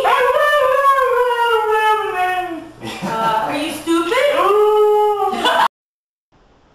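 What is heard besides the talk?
dog howling and whimpering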